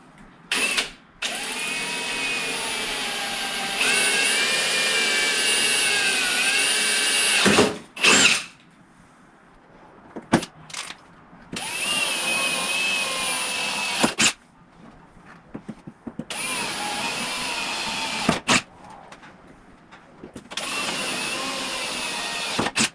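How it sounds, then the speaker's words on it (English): A power drill bores through fiberglass into a Perspex panel in several loud bursts of whining spin, separated by short pauses and quiet gaps. "drill through the fiberglass into the Perspex panel underneath"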